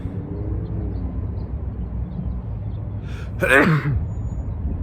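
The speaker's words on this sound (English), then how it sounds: "so having to sneeze just a little bit" Outdoor wind rumble in a parking lot, then a single short, sharp sneeze bursts out close to the microphone and fades quickly.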